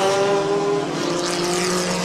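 A 1973 Brabham BT40 race car at the Spokane Festival of Speed taking a sharp turn, its engine loud and close with a high sustained note that shifts as it passes through the corner, alone without voices.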